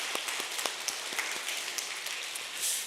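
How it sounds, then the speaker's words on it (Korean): A church congregation at a Korean Presbyterian Sunday service claps in thanks, a short, moderately soft patter of individual claps in uneven rhythm, tapering off within three seconds. "영광의 박수 드리겠습니다."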